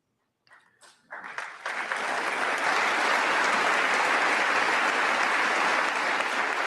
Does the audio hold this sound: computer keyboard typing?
no